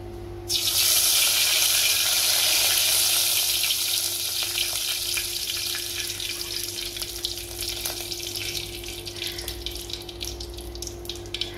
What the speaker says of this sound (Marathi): मुखार तेल घेयला फोण्ण मारपा लागून